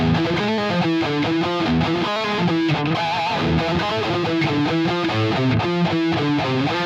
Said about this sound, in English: That's a great sounding JCM 800.